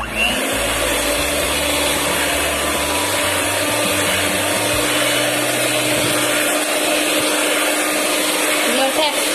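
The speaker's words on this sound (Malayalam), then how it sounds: "ഇനി ബീറ്റ് ചെയ്തെടുക്കാം." An electric beater whirs steadily and loudly through a custard ice cream mixture, a continuous broadband motor drone whose low hum shifts in pitch partway through, with no pauses.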